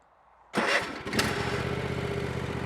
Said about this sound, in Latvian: Tātad, tagad es iedarbināšu traktoru.